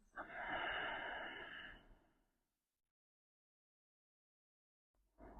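One slow, audible exhale during a yoga child's pose, soft and close for about two seconds, then near silence before the next breath begins.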